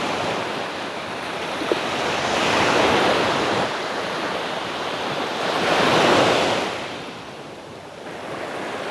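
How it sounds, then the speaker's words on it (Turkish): Sea waves wash onto the beach at Davutlar on the Aegean coast, a loud steady surf roar that swells in two broad surges, with wind buffeting the microphone and no voices. "Sanki dalgalar daha da yükselmeye başladı."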